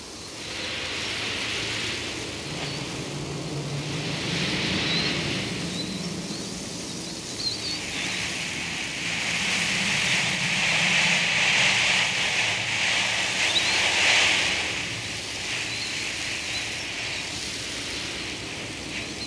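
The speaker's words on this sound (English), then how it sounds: "In the afternoons, a strong wind blows every day from the west." Strong wind sweeps across a desert from the west, a continuous broad roar that swells and eases in long gusts, with no voices present.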